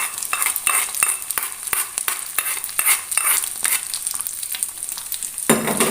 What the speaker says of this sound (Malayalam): ആ വറ്റൽമുളകും കൂടി മൂത്ത് വന്നാൽ നമുക്ക് ചോറിലേക്ക് നമുക്ക് ഒഴിച്ചു കൊടുക്കാം